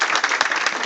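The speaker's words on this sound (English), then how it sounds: "I'd like for you to give them another round of applause" Brief burst of audience applause at a ceremony, many hands clapping loudly in a dense, continuous patter.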